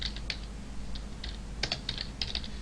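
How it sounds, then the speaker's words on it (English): Quick bursts of keystrokes tap on a computer keyboard, close and clear, in irregular clusters of clicks with short pauses between words. "Let me make sure I type this right."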